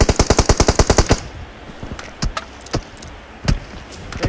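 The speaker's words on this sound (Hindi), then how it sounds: "कहाँ से मार रहा है ये, कहाँ से मार रहा है" Gunfire from the video game PUBG Mobile: a rapid burst of about a dozen automatic shots, followed by scattered single distant shots, with no talking.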